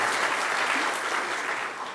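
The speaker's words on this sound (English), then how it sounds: "Oh yeah, clap for Eric, yeah." An awards event audience for writers and illustrators gives a short, dense round of applause that stays full and even, easing off slightly right at the end.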